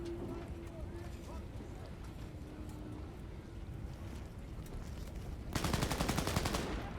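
Rapid automatic gunfire in the video game Cyberpunk 2077 breaks out as a sustained loud rattle near the end, following a stretch of low rumbling background noise.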